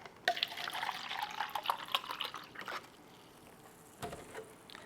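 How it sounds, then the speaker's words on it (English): Water is poured from a plastic cup onto potted Hoya plants, a close trickling splash with scattered drips that fades out, then a brief second pour near the end. "let's water these Hoyas. So I got this one. I'm just using a plastic cup."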